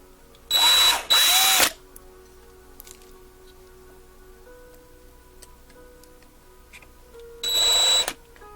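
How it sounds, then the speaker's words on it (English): Small power drill boring out rivets on a 1/64-scale NASCAR model car, whirring in two quick close bursts and then one more after a quiet pause with faint ticking. "I'd already drilled out the other rivets. Let's take these out."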